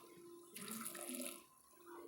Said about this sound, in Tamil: இதில் இப்போ இது எல்லாத்தையும் சேர்த்துட்டு நம்ம தேவையான அளவு தண்ணி சேர்த்துக்கலாங்க